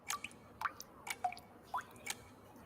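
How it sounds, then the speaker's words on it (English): Dripping water in the horror game Pocket Mirror: about seven sharp, wet drips fall in an irregular rhythm over a quiet, faintly hissing background, close and clear with no talk. "Dripping water noises."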